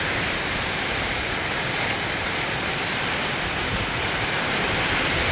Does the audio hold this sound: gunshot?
no